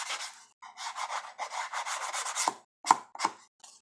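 Edges of composition book covers being hand sanded, a steady rasping rub in repeated strokes for about two and a half seconds, then a few short separate scrapes after a pause, close and fairly quiet.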